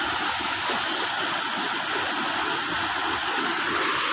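Strong rushing current of a stream flowing where a box culvert is planned, a loud, steady, unbroken roar of water close by with no voices.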